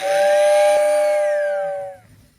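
A Lionel 736 Berkshire toy train's whistling tender sounds once, a bright steady tone with a hissing edge, holding for about two seconds before cutting off.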